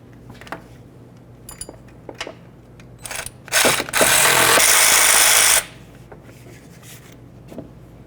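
A ratchet tool clicks intermittently, then a loud power-tool burst lasts about two seconds as it removes the serpentine belt tensioner center bolt on a 1998-2002 Honda Accord, followed by quieter clicks.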